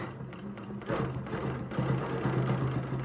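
Sewing machine stitching a quilt along a ruler-guided line, a steady close mechanical hum and rapid needle patter that stops briefly and restarts, running continuously for a few seconds.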